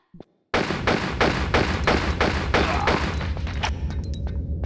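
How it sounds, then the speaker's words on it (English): Enemy gunfire in Tomb Raider Chronicles, a loud rapid burst of about eleven evenly spaced shots with a short thump before it and a few metallic pings trailing off at the end. "there's going to be a guy right around this corner. Shooting bullets at me."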